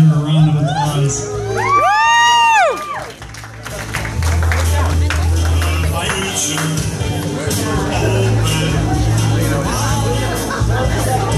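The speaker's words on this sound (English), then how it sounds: "Let's give her a round of applause." A crowd at a cake cutting cheers and claps, with loud whoops and children shouting over scattered applause and talk, staying lively to the end.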